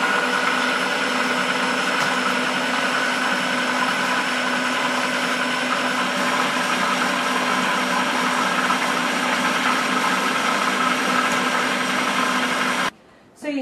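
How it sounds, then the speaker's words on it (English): A food processor blends cheesecake batter with sour cream, a steady loud whirring drone that runs unbroken for over twelve seconds before cutting off briefly near the end. "So you have to keep blending this or processing this until all the ingredients are mixed together."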